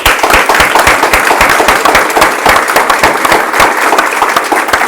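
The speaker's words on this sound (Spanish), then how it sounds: "Un fuerte aplauso." An audience gives a loud, sustained round of applause for a CEO speaker at the end of a business talk, close and dense clapping with sharp individual claps standing out throughout.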